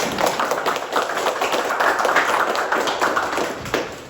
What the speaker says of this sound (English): Round of applause for Murray.